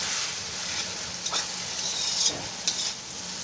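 Green chili paste frying in a pan for a Bengali chicken curry, giving a steady, hissing sizzle with a few soft stirring knocks, no talking.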